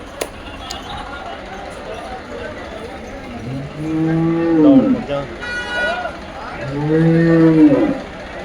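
At a buffalo market in Dhanaula, Punjab, a buffalo gives two long, deep, loud lows close by, separated by a short pause, over a background of market noise.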